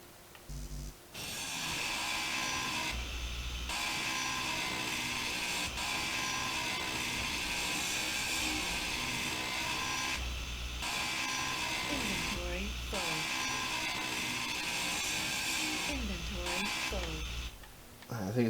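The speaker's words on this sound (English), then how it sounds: "So let's just grind away the rest of the ship." A grinder steadily tearing apart a ship in the game Space Engineers, making a loud, continuous whirring grind with a few brief breaks.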